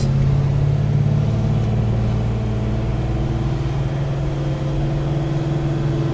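The engine of a 1966 Beaumont, built with a 283 crank in a 400 block, idles with a steady, loud, deep burble that holds an even rhythm throughout.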